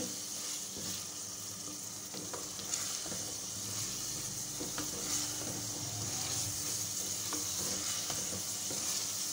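Yogurt is fried bhuna-style in a pan for aloo qeema over a normal flame. A dense, continuous sizzle runs throughout, with scattered stirring scrapes and clinks close by.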